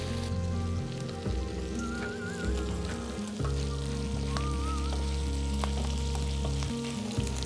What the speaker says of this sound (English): then dump it in your frying pan.